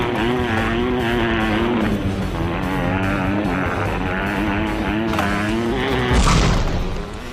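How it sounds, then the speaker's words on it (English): In-game motorbike engine effects from the video game Motorbike: a loud, continuous, sputtering drone with a wobbling pitch, overlaid on hard rock music and a brief surge near the end. "sound effects that more closely resemble a series of wet farts than revving"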